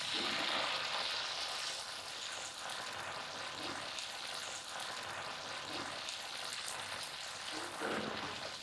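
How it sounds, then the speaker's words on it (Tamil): Millet dosa batter sizzling on a hot griddle, an even, close hiss of frying that stays steady throughout, with slight swells but no talking. "தோசை ஊற்றிடலாங்க"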